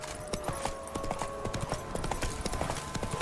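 Roach, the horse in The Witcher 3, gallops with rapid, rhythmic clip-clopping hooves, a steady close patter of hoofbeats with little else around it.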